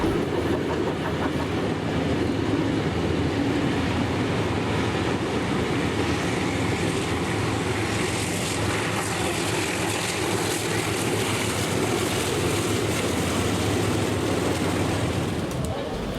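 A 36 class steam locomotive hauls its train near Katoomba, giving a continuous loud rumble and roar of the engine and rolling wagons with rhythmic rail clatter that holds steady throughout.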